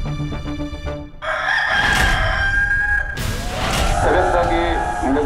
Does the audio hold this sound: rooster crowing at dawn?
yes